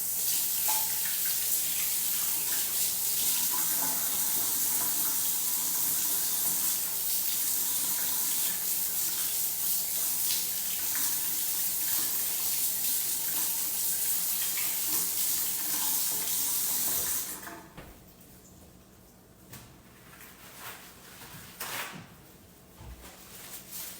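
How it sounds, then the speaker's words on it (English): A kitchen tap runs steadily for hand washing during holiday cooking, a continuous close hiss of flowing water that shuts off, leaving quieter handling noises and faint clatter. "I feel like I gotta wash my hands after that."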